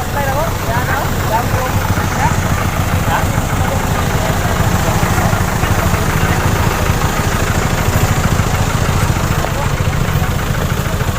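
A vehicle engine, stalling in floodwater, idles and sputters unevenly, a steady rough rumble running the whole time beneath background voices.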